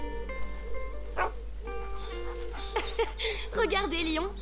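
A dog whimpers and yips in the video game A Plague Tale: Innocence, with a few short barks among music, game sounds and speech.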